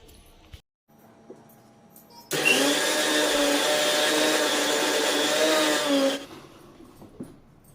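A mixer grinder grinds gravy masala with ginger and black pepper, a loud steady whirring roar that starts abruptly, holds for about four seconds close up, then cuts off into quiet.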